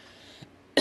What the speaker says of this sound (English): I just can't get rid of this cough.